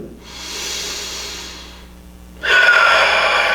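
Deep breathing during a yoga session for hangovers: one long, airy breath close to the mic fades out, then after a short pause a second, louder breath continues to the end.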